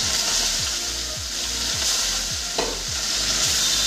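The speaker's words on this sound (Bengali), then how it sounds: "এবার আমি মাছগুলোকে কড়াই তেল ভেজে নেব।" Large Raikhor fish frying in hot oil in a wok, giving a dense, unbroken roaring sizzle close up, with a steady rhythmic low pulse of background music under it.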